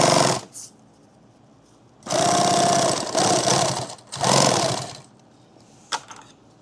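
A sewing machine runs in short bursts while stitching a laptop bag: a brief whir, a pause, then two longer steady runs of rapid mechanical chatter, ending with a single sharp click.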